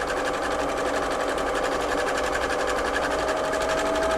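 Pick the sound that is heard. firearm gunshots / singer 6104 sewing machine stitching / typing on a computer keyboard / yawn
singer 6104 sewing machine stitching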